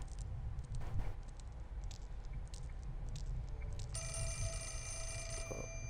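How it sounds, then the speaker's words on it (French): A telephone rings in the video game Project Zero, its bright, steady electronic ring beginning partway through over a low, rumbling ambient background. "Téléphone"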